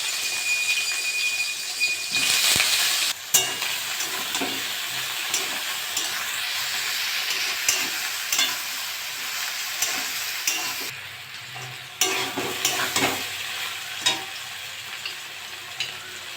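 Continuous sizzling of eggplant frying in a pan after neem leaves, broken by repeated scrapes and clacks of a spatula stirring, with no talking.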